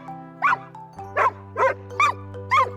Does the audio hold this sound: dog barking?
yes